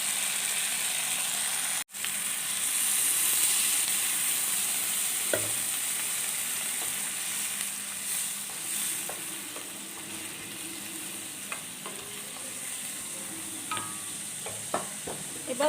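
Neem shukto with cashew-mustard paste simmering in a pan after water is added, giving a steady close bubbling sizzle with a few light stirring clicks and utensil taps, no talking.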